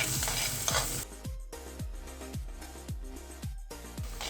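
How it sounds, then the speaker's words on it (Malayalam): Chopped onions sauté in a pan for a dried mackerel curry, with steady stirring scrapes and light sizzling under a background hum and no talk. "നമുക്ക് ഈ ഉള്ളി ഒന്ന് ചെറുതായിട്ടൊന്ന് വാടിയാൽ മതി."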